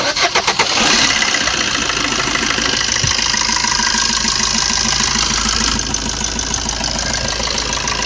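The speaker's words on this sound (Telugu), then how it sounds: "ఇంజన్ సౌండ్ కూడా చూపిస్తాను చూసుకోవచ్చు" A 2013 Maruti Suzuki Swift Dzire engine cranks and catches, then settles into a steady, loud idle that runs on close by.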